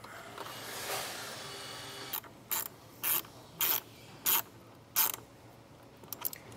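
Ratchet wrench clicking as it tightens a 10 mm battery terminal nut on a Chevrolet Equinox, a series of five or six short, evenly spaced bursts of rapid clicks, close and fairly quiet with no talk.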